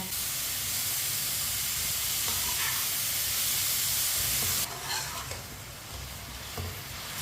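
A sugar mixture cooking over medium heat in a pan while a spoon keeps stirring it, a dense steady hiss and sizzle, close and loud, easing to a quieter bubbling with faint scrapes after a few seconds.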